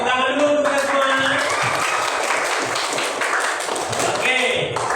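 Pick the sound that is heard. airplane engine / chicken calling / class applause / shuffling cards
class applause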